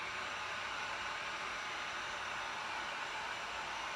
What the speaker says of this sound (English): heat gun thing forever